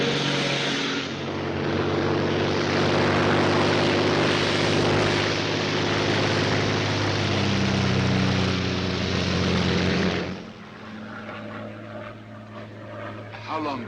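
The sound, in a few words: Royal Air Force propeller plane in flight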